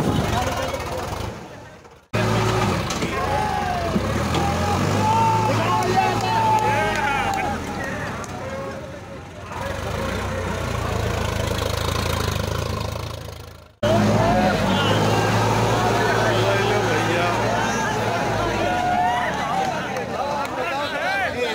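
Tractor engine labouring loud and steady through a stunt at a farmers' fair, low rumble with rising strain, crowd murmur and voices running throughout.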